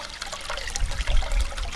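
Water rushes and trickles through a Sluice Goose gold recovery unit during elutriation, its flow set by a valve and a water meter, a steady close wash of liquid with no talking.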